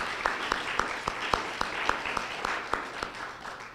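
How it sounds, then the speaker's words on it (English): A congregation at a Sunday service claps in a steady, evenly spaced rhythm, with sharp individual hand claps standing out over a softer wash of applause for about four seconds. "One more round of applause for that"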